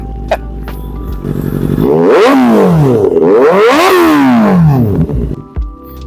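A Kawasaki Ninja ZX-4RR motorcycle with a loud Austin Racing aftermarket exhaust idles, then revs hard twice in rising and falling sweeps, close and roaring, before settling back to a burbling idle.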